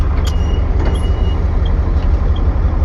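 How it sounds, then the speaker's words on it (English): Steady low rumble of road traffic heard from inside a moving stone-hauling truck, loud and continuous, with faint passing vehicle noise and a brief hiss like an air brake. "Tons of traffic."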